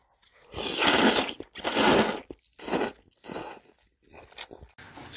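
Close, loud wet chewing and slurping of tteokbokki with mini rice cakes, fish cakes and spicy buldak fire noodles, in several long bursts separated by brief pauses, with no talking.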